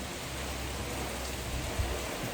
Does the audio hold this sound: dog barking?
no